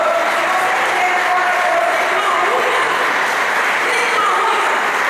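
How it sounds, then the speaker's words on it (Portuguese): A church congregation applauds at a victory communion service, a dense, steady wash of clapping filling the whole stretch at even loudness, with faint crowd murmur underneath. "Aplauda o Senhor"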